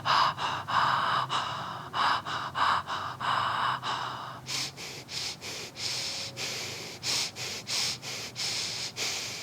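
Ocean breath exercise: a rapid series of sharp, close nasal breaths, evenly paced, shifting partway into stronger, more spaced pulses, with no speech.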